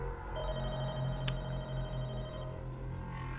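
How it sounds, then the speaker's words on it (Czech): Telephone ringing in The Walking Dead: Michonne video game, a steady electronic ring tone held over low game ambience with a single brief click near the middle, no talk. "Zvednu telefon."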